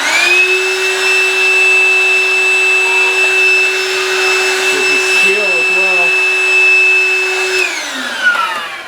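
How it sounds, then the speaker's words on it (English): A vacuum cleaner runs with a loud steady whine and roar, its pitch dipping briefly in the middle, then powering down near the end. "just give it a quick vacuum"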